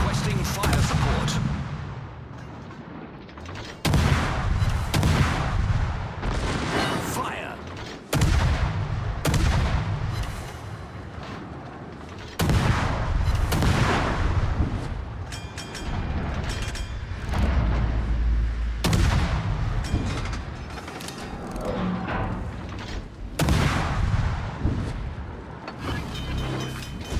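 Artillery fire support in a combat video game: heavy booms and blasts repeat throughout, loud and dense, with rumbling gunfire between the big hits and some voices mixed in.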